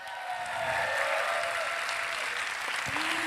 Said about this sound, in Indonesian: Saya minta tepuk tangannya dulu pada malam hari ini.